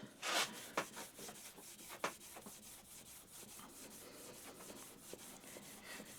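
Plane blade drawn across a strop charged with honing compound, a faint, steady scraping rub with a few sharper strokes early on, quiet and close with no talking.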